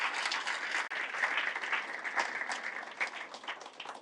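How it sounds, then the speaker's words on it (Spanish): A church congregation bursts into applause after a scripture reading, dense crowd clapping sustained throughout, moderately loud and free of speech. "Fuerte ese aplauso a la palabra del Señor."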